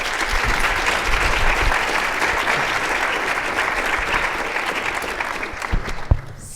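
Sustained audience applause fills a university keynote hall, steady and dense for several seconds before tapering, with a few louder claps near the end.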